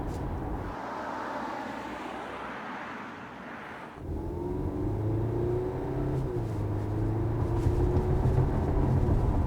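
An Audi A4 with a 7-speed automatic gearbox accelerates, its engine note rising in pitch, dropping at a quick gear change, then climbing again, heard from inside the car under steady road rumble.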